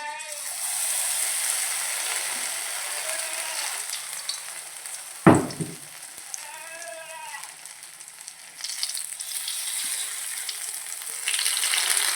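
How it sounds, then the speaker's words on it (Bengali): Batter-coated bok flowers dropped into hot oil, giving a bright steady frying hiss with one sharp splash and a few brief tonal squeaks, close and fairly loud. "এক একটা ফুল ভালো করে মাখিয়ে নিয়ে তেলের মধ্যে ছাড়তে হবে"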